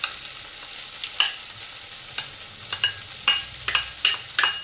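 Soaked sabudana is added to a pan and stirred, with repeated spoon scrapes and soft wet clacks arriving in an irregular rhythm over a quiet background sizzle.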